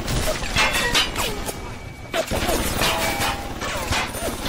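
Enemy gunfire in BioShock Remastered: a busy stretch of repeated cracks and metallic crashes, loud and close, with a voice speaking over parts of it.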